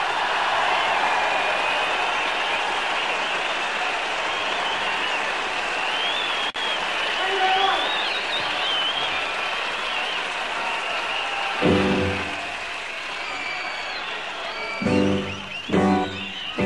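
A concert crowd at the Hammersmith Odeon applauds a band, sustained clapping and cheering throughout, with a few louder swells and thumps near the end.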